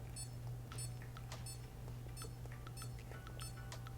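A Garmin Tactix/Fenix watch emits a string of short, high key-tone beeps in irregular succession over a low steady hum, fairly faint and close.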